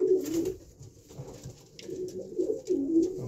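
Pigeons coo steadily in a loft, with several low, throaty calls overlapping and repeating close by. Faint background rustling sits underneath, and no one speaks.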